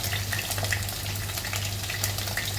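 Potato bhaji with cumin, turmeric, red chilli, coriander and salt sizzles steadily in mustard oil, a close, constant crackling fry with no voices.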